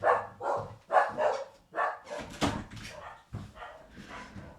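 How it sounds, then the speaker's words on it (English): Several dogs bark in repeated bursts close by, busy and overlapping, filling a short indoor moment without other talk. "I'm just going to close my door because my dogs are barking"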